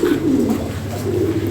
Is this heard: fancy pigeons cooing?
yes